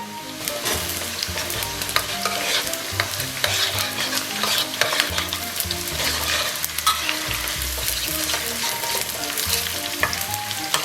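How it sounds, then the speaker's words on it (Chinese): Chopped scallions and garlic with chili paste sizzle and crackle steadily in hot oil while being stirred, a close, busy frying hiss with scraping of the spatula throughout. "油热后，咱们把切好的葱蒜给它下里边， 然后咱们给里边来点辣椒酱。"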